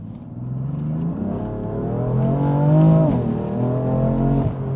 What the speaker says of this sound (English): The back was actually spinning going from gear 2 to gear 3.